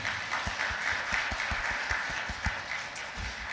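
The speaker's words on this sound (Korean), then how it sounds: "큰 박수로 환영해 주십니다." A church congregation claps steadily for a few seconds at a graduation service, an even patter of hands close by.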